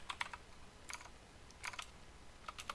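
Bursts of keyboard typing as Python code is entered on a computer, clustered quick clicks in four short runs separated by brief pauses, close and fairly quiet with no talk.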